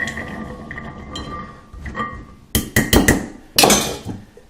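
Chickpeas being tipped into a bowl, heard as a few loud, clattering bursts near the end after a quieter stretch of low kitchen rumble and faint clinks.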